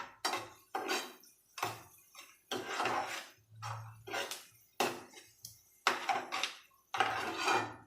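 Onions being stirred in a pan for an Indian-style white sauce pasta, a spoon scraping and clinking against the metal in repeated strokes with brief pauses, close and moderately loud with no talk.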